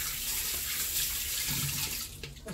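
Tap water runs steadily into a sink in a Philippine home, a continuous close splashing hiss with no voices.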